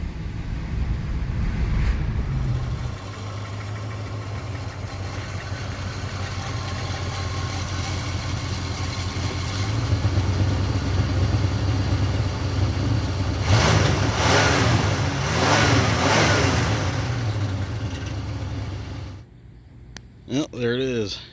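A car engine runs steadily during a test drive, a low droning hum with rising revs partway through, while people talk in the cabin. It cuts off near the end.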